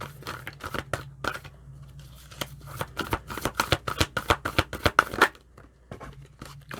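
Tarot cards shuffled and riffled by hand, a rapid series of crisp close snaps and flutters building in intensity, then easing off near the end.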